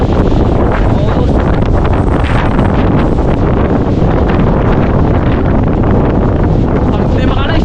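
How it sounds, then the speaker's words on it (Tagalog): Very strong storm wind roars and buffets the microphone without letup, a loud, dense rushing gust noise mixed with rattling; a voice may be faintly present beneath it. "Sobrang lakas ng hangin"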